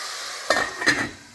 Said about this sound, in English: let's give this a good stir. And then we close this. Allow it to cook.